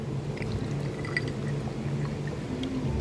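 Water is poured into a drinking glass, a soft, steady trickle close by against quiet room noise, with no talk during the pour.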